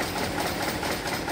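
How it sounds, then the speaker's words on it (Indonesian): A truck engine keeps idling after the ignition has been switched off, a fault where it will not shut down; a close, steady, even chugging runs on without any talk. "Posisi kontak udah mati, mesin masih hidup nih."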